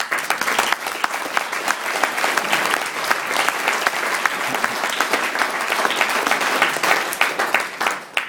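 Wedding guests applauding during a speech at a wedding celebration, a loud, steady round of many hands clapping close by for about eight seconds with no talk over it.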